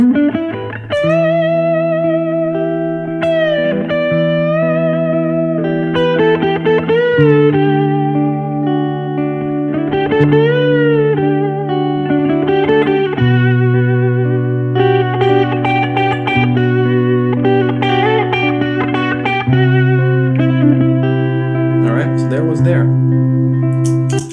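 An electric guitar plays a flowing pentatonic solo of bent and sustained notes over a steady backing, with a processed, echoing tone.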